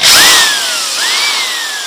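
A cheap Makita power drill drives a screw, its whining motor rising in pitch, sagging under load, then revving up again in a second burst, loud and close with no talking.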